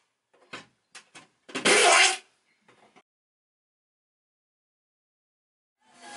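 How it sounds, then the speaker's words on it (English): A hacksaw cuts through a window frame during a window installation: a few short rasping strokes, then one longer, louder stroke, followed by several seconds of silence and faint scraping at the end. "So I'm gonna see if the hacksaw works a little better on the top half here"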